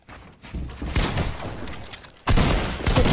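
An opponent's gunfire in a competitive console shooter match: two loud bursts of rapid shots, the second sharper and harder, separated by a brief near-silent gap.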